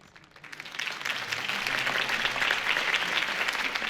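Crowd applause in the video game Batman: The Telltale Series, rising quickly from quiet into a full, steady wash of clapping that fills the space and continues without pause.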